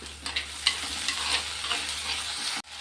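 Onions and green chillies sauté in a pan and get stirred, the spoon scraping through a constant bright sizzle in short repeated strokes, close and fairly loud with no voices, then ending abruptly.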